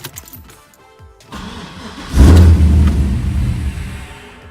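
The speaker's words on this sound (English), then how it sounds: "So now the car will probably start now" An LS-swapped F-body car cranks over and fires after a couple of seconds of quiet, then settles into a loud, close, rough idle that continues to the end with no talking.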